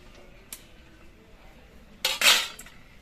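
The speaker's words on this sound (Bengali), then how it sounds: "ঢাকনাটা খুলে নিচ্ছি আর বিটটা আর একবার নেড়ে চেড়ে দিচ্ছি" A metal spoon stirs boiled beetroot in a pan, giving a light early clink and then a brief, brighter scraping and clinking burst near the end, against a quiet kitchen background.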